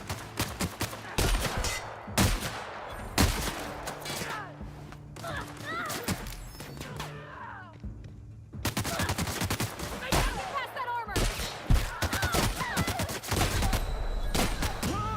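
Gunfire from the video game The Outer Worlds: rapid, repeated shots and bursts that fire almost continuously, pause briefly about midway, then resume. A voice talks intermittently over the shooting.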